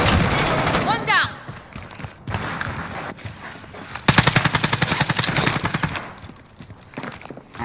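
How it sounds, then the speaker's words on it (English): Warzone video game gunfire crackles in rapid automatic bursts and scattered shots, loud and close, mixed with footsteps and thuds while a player talks over the action. "getting shot from somewhere"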